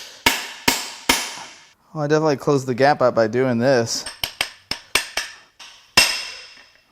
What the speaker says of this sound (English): I'm gonna use an extractor that I'm gonna hammer onto it right here.